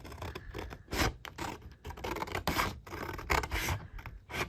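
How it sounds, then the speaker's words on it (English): Large scissors cut washi tape along the edge of a glue book, giving a close run of crisp snips and scraping rubs in uneven bursts with short pauses between, and no talking. "I think I'm going to use my scissors. I grabbed my larger scissors to start this."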